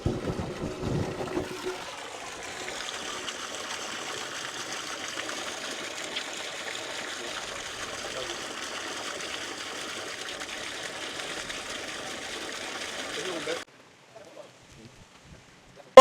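Submerged water pump running steadily in a blue bucket, a continuous even whirring and trickling hum that carries on for over ten seconds after a brief clatter, then cuts off abruptly into near silence.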